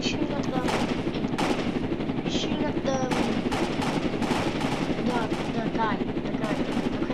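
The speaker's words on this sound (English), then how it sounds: "He's shooting at the guy." Rapid automatic gunfire in the Roblox game Jailbreak rattles in dense, continuous bursts over the steady chop of a helicopter, with excited voices talking in short snatches over the shooting.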